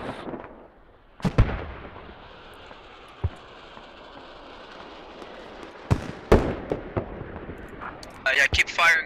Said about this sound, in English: keep firing mortars on the mortar markers north of Central Orchard